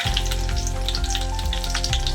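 Curry leaves and turmeric sizzle loudly in hot oil while puffed-rice chevda is being made, a dense, close frying crackle with scattered pops that runs unbroken with no talking.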